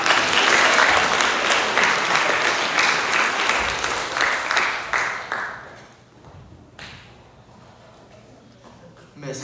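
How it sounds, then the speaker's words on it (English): A school audience applauds as a student cabinet is introduced, with dense steady clapping that is loud at first, then thins out and fades over several seconds before a brief new burst at the end. "Y'all can clap."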